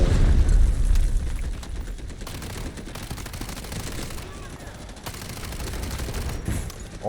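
Mini Uzi firing in the video game Delta Force, dense rapid automatic bursts with heavy booming impacts running almost continuously, loud and close.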